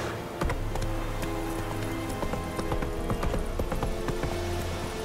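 Roach the horse gallops in The Witcher 3, with rapid rhythmic hoofbeats that run steadily throughout, close and clear over a low game ambience.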